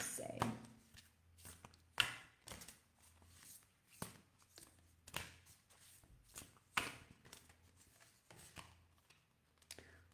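Tarot cards being shuffled by hand, a series of soft riffling and tapping bursts repeated at irregular intervals, fairly close and quiet, with brief talking in between.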